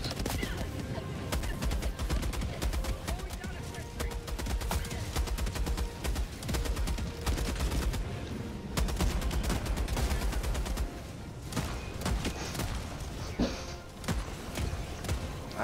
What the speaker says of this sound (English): I don't think that's a mortar. It's an auto cannon.